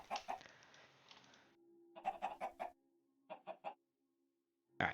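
Chicken clucking in the Minecraft modpack Sky Factory 3 during chicken breeding, several short bursts of clucks in two clusters separated by quiet gaps, fairly close and clear with no talk over them.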